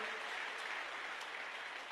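Steady applause fills a church service as the congregation claps for the Lord, a dense, continuous wash of hands at even loudness for two seconds with no speech over it.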